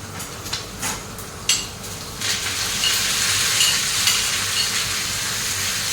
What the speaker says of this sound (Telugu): ఇప్పుడు మనము తాలింపులో వేసుకున్నాము